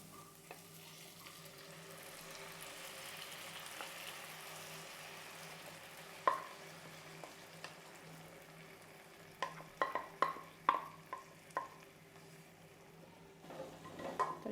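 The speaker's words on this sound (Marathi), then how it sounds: "व्यवस्थित एकजीव करून घ्यायचं आहे" A spoon stirring soaked cracked wheat and moong dal khichdi in a pan, faint sizzling throughout with a cluster of sharp clinks of utensil against metal, close and quiet with no talk.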